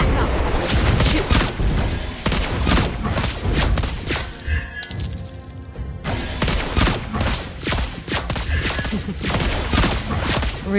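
Repeated gunfire bursts from Lesley, the sniper hero in Mobile Legends, crack loudly over game music and effects, with a brief quieter gap midway before the shots resume.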